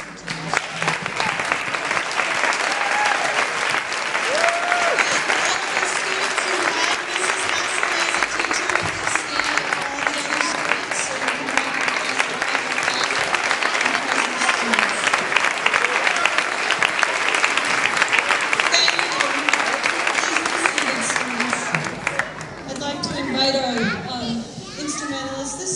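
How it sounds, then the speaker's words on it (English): An audience at a state board of education meeting applauds students with sustained, dense clapping mixed with children's voices, tapering off near the end as speech resumes. "we can give them an applause for doing such a nice job"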